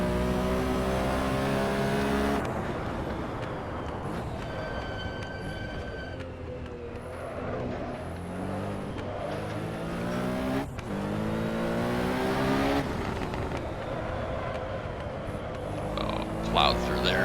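A Porsche 917K race car in the video game Assetto Corsa drones with a loud, steady, harmonic engine note, rising and falling in pitch as it revs through gear changes and corners, with no voices over it.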